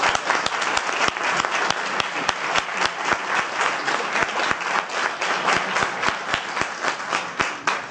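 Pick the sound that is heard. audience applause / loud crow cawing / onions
audience applause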